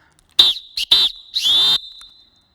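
A water polo referee blows a whistle in short, shrill bursts: two quick blasts followed by a longer sustained one, loud and close, with a faint tone lingering after.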